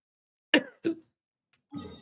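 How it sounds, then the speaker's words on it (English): Two short, sharp coughing bursts close together, then a brief pause and a longer voiced, hiccup-like gulp; close up and fairly loud. "A cough and a hiccup at the same time."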